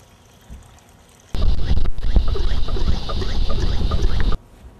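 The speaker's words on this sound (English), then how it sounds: "I set my funnel in with my strainer, and now I'll just" Latex paint and water mix poured from a container through a strainer funnel, a loud splashing, gurgling pour lasting about three seconds that starts and stops abruptly, with quiet before and after.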